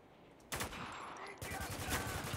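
Bursts of rapid gunfire from the PC video game Spec Ops: The Line, a short volley followed by a louder, sustained rattle of shots up close.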